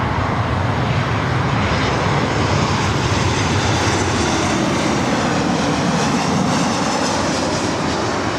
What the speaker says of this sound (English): Next arrival is Southwest Airlines flight 2674, coming in from San Jose, California, 737-700.